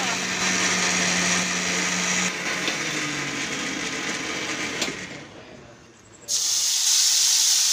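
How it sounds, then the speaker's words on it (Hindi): Onions being ground into masala in an electric kitchen grinder, a loud whirring blender roar that shifts pitch partway, drops off briefly, then surges back at full speed. "बस प्याजों को भी निकालते हैं और पीसने के लिए डाल देते हैं।"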